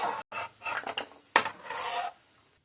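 Roasted dry fruits being tipped and scraped from a pan into a separate pot, with a series of close metallic clinks and scrapes of a utensil against cookware, ending in quiet.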